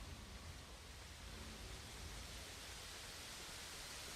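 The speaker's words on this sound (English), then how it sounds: "Oh, listen to that rain." Steady, dense hiss of rain falling in Guild Wars 2, an even broadband wash that holds at the same level from start to finish with no other sounds.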